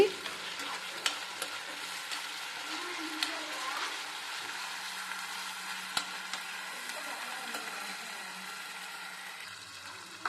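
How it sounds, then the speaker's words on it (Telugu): Ginger-garlic paste and spices fry in a pan for jeera rice, a soft steady sizzle running throughout with occasional light clicks of a spoon stirring the mixture. "ఇప్పుడు ఈ మిశ్రమాన్ని బాగా కలుపుకోవాలి"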